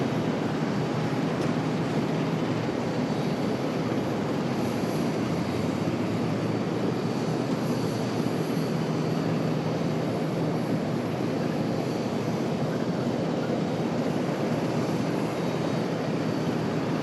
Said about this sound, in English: Off of D6, there is our 737 pushing back.